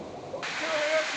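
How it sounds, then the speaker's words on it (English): A water hose sprays hard on people in a 1968 Planet of the Apes movie scene, a loud steady hiss and splash that swells after a quiet start. "This guy's having way too much fun with that water hose"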